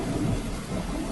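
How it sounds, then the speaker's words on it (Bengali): Cartoon rain and thunder, a soft steady patter of rain under a low rolling thunder rumble, fairly quiet and with no voices. "সকাল থেকে বৃষ্টি ঝরেই চলেছে শ্রাবণের ধারার মতো।"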